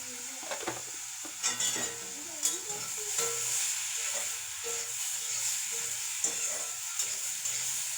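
Fish seasoned with turmeric and salt cooking in a pan, giving a steady sizzle and hiss with occasional stirring clatter, fairly close and moderately loud.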